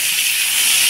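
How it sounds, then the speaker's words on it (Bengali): Eggplant frying in hot oil in a home kitchen gives a loud, steady sizzling hiss. It is close and unbroken, with no talk over it. "বেগুনটাও একটু ভেজে নেব।"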